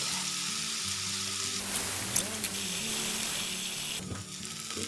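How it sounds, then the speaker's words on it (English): Onions frying in a pan while being cooked down until soft, with a steady close sizzle throughout and a few light scraping, stirring clicks around the middle. "Now we just want to cook this through until the onion is softened."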